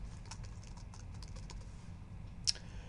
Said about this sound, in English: you're going to type in your name.